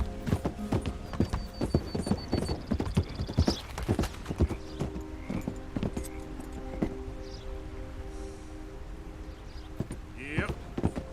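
A horse in Red Dead Redemption 2 clip-clops along at a steady trot with sharp, close hoof strikes. A character's voice speaks at times over the hoofbeats.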